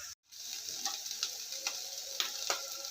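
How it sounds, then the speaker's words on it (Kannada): Drumstick leaves frying in a pan give off a steady, even sizzle with light crackles and ticks scattered through it, close and fairly quiet, with no voices. "ನುಗ್ಗೆಗೆ ಸೊಪ್ಪಂತೂ ಚೆನ್ನಾಗಿ ಫ್ರೈ ಆಗಿದೆ"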